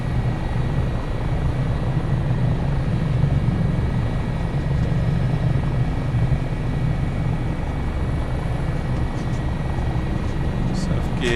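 A simulated US Coast Guard HH-65 Dolphin helicopter flies near Valdez, Alaska in Microsoft Flight Simulator 2024. Its rotor and turbine drone holds a steady, loud hum throughout, with no break.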